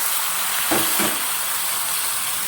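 Cut broad beans hitting a hot pan for a fish and prawn chorchori, a steady loud sizzle and hiss with two brief bursts of sharper crackle as pieces drop in, no voices.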